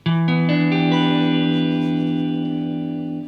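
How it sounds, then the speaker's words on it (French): An E minor 7 guitar chord is strummed once through an EarthQuaker Devices Afterneath reverb pedal, ringing out loud and spacious with a long, shimmering sustain that slowly fades. "je me suis mis une petite reverb de chez Earthquaker Device, la Afternift, qui est une tuerie qui te permet d'avoir des sons complètement spatiaux, célestiaux"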